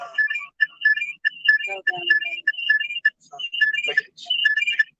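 A mobile phone ringtone plays a chirpy, cricket-like electronic warble in quick repeated bursts, loud and close, repeating steadily across the whole stretch with only brief gaps.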